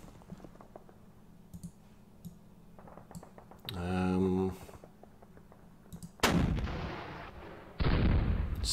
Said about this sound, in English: here comes all the mortars